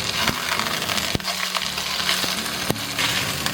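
Razor clam pancake frying in a pan of oil over medium-low heat: a continuous close sizzle and crackle, broken by a few sharp clicks and taps of a utensil.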